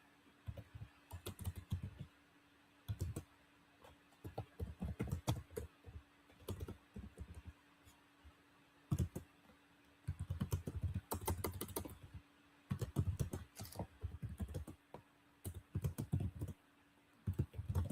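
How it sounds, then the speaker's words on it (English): Bursts of quick, close keystrokes clatter on a computer keyboard, coming in irregular clusters separated by short quiet pauses, with nobody speaking. "I'm just typing something in"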